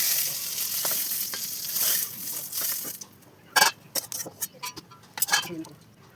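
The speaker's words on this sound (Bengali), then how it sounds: "পটলগুলো ভালো করে নাড়িয়ে চাড়িয়ে ভেজে নিয়ে পটলগুলোকে তুলে নেব একটি পাত্রের মধ্যে" Pointed gourd (potol) pieces fry in hot oil in a pan with a steady close sizzle, then the sizzle drops away and the utensil scrapes and clinks in short irregular bursts.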